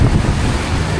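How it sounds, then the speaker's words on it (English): Strong wind blows hard at the coast near Ningaloo, buffeting the microphone with a loud, continuous low rumble for the full second. "just waking up and the wind doing what it's doing"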